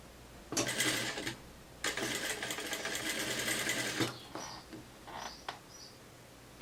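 Sewing machine stitching a fabric hem on a cropped godê garment, two loud close bursts of steady mechanical stitching, followed by small clicks and handling noises as the fabric is adjusted.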